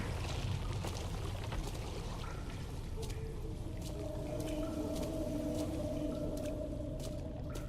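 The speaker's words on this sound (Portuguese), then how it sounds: "É o bicho da água, né?" The water monster in the horror game Amnesia: The Dark Descent, heard as a murky, splashing wash of water with eerie drawn-out moaning tones rising in the second half, steady and fairly faint.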